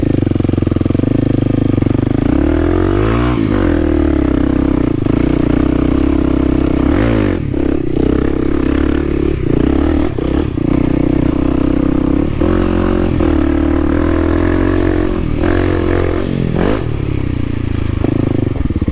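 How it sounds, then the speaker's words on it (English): A KLX300 dirt bike climbs a hill on local trails, its single-cylinder engine revving hard in repeated surges with clattering and scraping over rough ground, loud and close throughout. "But I'm gonna try a wheelie up this hill real quick."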